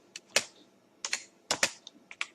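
Clusters of computer keyboard keystrokes come in short bursts with brief pauses, close and crisp, with no one talking.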